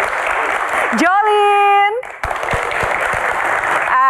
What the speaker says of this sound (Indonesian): Berikan tepuk tangan yang paling meriah untuk Mbak Tejo,